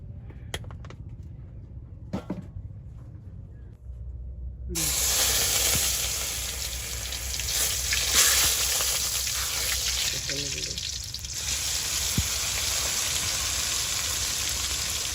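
Oil sizzling loudly in a pan for cooking meat in a rustic village kitchen, starting abruptly with a broad steady hiss after a few seconds of quieter clatter and continuing close and dense to the end.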